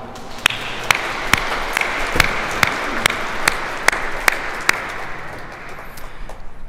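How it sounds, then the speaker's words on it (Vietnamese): A congregation at Sunday Mass in a cathedral breaks into applause, a reverberant wash of clapping punctuated by sharp, evenly spaced claps that fade out toward the end. "chúng ta chào đón lẫn nhau bằng một tràng pháo tay"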